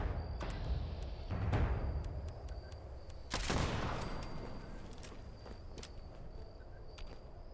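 Gunfire in the video game Fallout 76, a few loud sharp bursts of shots standing out over a steady background of game ambience and footsteps.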